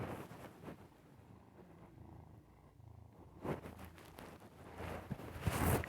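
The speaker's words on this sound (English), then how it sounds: "You can kind of hear him purr, but I'm not sure." A pet cat purrs softly in the background, a faint steady rumble that rises a little toward the end, with some rustling and handling noise near by and no talk.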